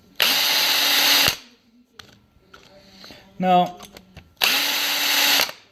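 A power drill bores holes in a knife blank in two loud, even whirring runs of about a second each, separated by quiet handling clicks and a brief spoken word.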